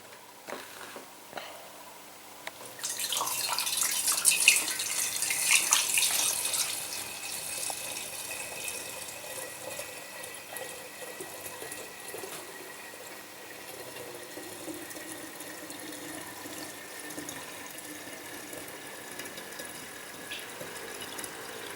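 Blackberry wine is tipped slowly into a glass demijohn, building from a quiet start to a splashing gurgle, then easing into a softer, steady trickle.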